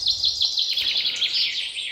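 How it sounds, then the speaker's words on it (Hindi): Birds chirp and tweet in quick, high bursts along a mountain trekking trail in the Parvati Valley, near and fairly loud, with no voices. "पक्षियों की चहचहाट"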